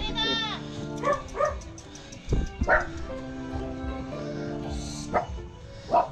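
A dog barks and yips in short repeated bursts close by along a seaside path, mixed with people talking in the background.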